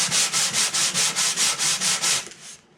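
Sandpaper scrubs by hand across the finish of an OM acoustic guitar in about ten even back-and-forth strokes, crisp and close, before trailing off.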